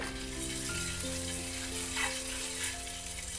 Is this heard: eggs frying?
yes